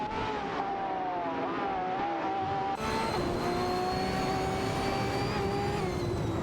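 Engines of a Lamborghini Aventador SVJ and a McLaren 600LT battling on track in a racing video game, a continuous loud whine of several engines with pitch rising as they accelerate, and no voices.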